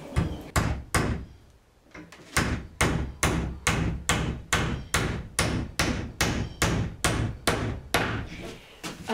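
A hammer driving galvanized nails into a wooden garden gate, about twenty sharp, loud blows at a quick, steady rhythm, with a short pause near the start before the strikes continue evenly.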